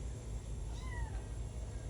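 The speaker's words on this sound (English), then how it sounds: "okay, little cat. It will be okay." A lost cat gives a single short, fairly faint meow over steady outdoor rumble and background noise.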